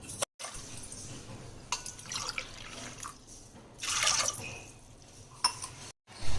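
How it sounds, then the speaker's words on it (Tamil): Water is poured over soaked green peas in a pressure cooker, a close, uneven splashing and trickling with a few brief louder gushes and pauses, with no talking. "இப்போ வந்து இது குக்கரில் போட்டுட்டு இது இந்த பட்டாணி முங்குறதுக்கு கொஞ்சம் அதிகமான அளவு வந்து தண்ணி ஊற்றிக்கலாம்."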